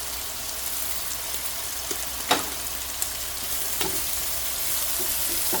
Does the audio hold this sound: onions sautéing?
yes